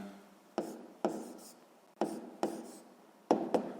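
A pen writes on paper during a sixth-grade geometry exercise in six distinct bursts of scratchy strokes, close and dry, with short pauses between them.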